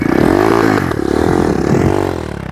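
A Kazakh national motorcycle revs in first gear at a village horse-race gathering, a loud, close engine whose pitch rises and falls in wavering sweeps over a brief burst.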